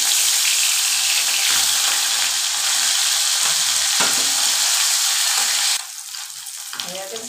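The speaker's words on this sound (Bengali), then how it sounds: "হয়ে গেছে গিয়ে আমার ইলিশ মাছের মাথাটা ভাজা" Hilsa fish head fries in a pan with a loud, steady, dense sizzle that fills the whole stretch, with occasional stirring, then drops to a quieter crackle near the end.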